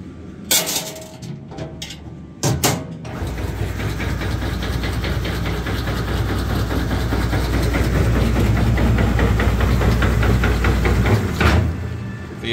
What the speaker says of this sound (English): We'll go ahead and dry cycle the machine.